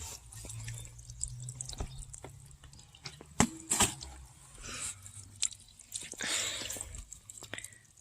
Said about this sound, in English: while the fountain is running, because it is solar powered, it drips down on the inside